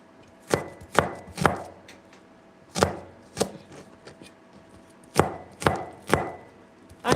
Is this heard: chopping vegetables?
yes